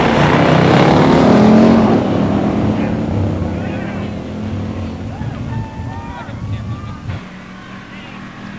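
At a pure stock drag race, a 1969 Super V 6-pack automatic runs against a 1970 Buick GSX Stage 1 automatic. A loud, close engine roar fades away over several seconds while voices talk in the background.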